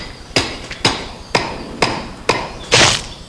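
A steel hammer driving a steel wedge into a firewood log: six sharp, loud metallic strikes at an even, steady rhythm, close up and alone, the last blow ringing slightly longer.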